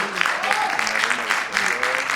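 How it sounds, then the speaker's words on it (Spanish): Steady applause from a crowd, continuous clapping throughout with a voice faintly underneath. "Aplauso y Juanpe para ellos"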